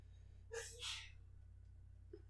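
A single loud sneeze bursts out sharply in two parts over a steady low electrical hum, followed by a quiet pause and a faint breath.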